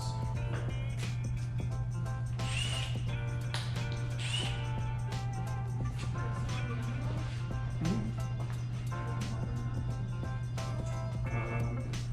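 Ratchet unbolting mounts, including a power steering pump mount, on a Honda D16 engine during a teardown: scattered metallic clicks and clanks over a steady low hum, with no clear ratcheting rhythm standing out.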